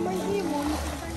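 A fish released from a bag splashes into the water, a brief soft splatter with faint voices in the background.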